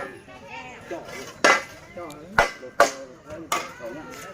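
Hammers strike nails into wood as villagers raise wooden house posts together outdoors, with several sharp, irregular knocks spaced about a second apart under low background chatter.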